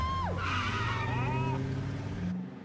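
A car driven fast and recklessly lets out a sharp, rising tire squeal over a loud engine roar, followed by wavering skid tones; excited shouting from the occupants overlaps the screech before it cuts off abruptly.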